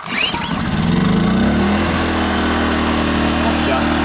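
A FOGO F2001IS 1.8 kW inverter generator engine catches and settles into a steady, loud running drone that continues throughout, with a person speaking over it.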